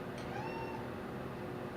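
A house cat gives a single short meow, faint and slightly distant, over a steady low room hum.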